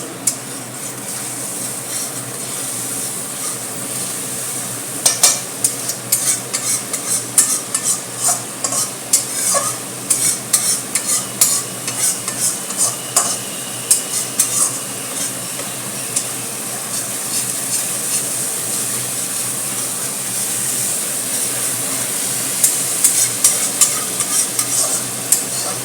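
Spice paste with salt is stirred in hot oil over very low heat for a Bengali doi potol curry: a soft, steady sizzle with repeated scraping spoon strokes against the pan, at times quick and bunched, at times sparse.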